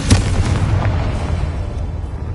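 The Confringo spell in the video game Hogwarts Legacy goes off as a deep, rumbling explosion with a strong low boom, then a dense, sustained roar that slowly fades.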